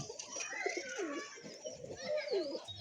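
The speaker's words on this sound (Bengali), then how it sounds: "এই পায়রাটা এসেছে বন্ধুরা দেখতেই পাচ্ছ" A pigeon coos softly in repeated low throaty phrases, with children's voices and other faint background sounds underneath.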